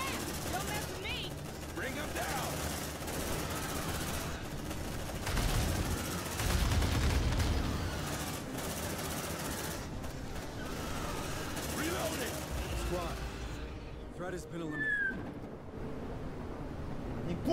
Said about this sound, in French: On va mettre un deuxième tir de suppression dans cette direction.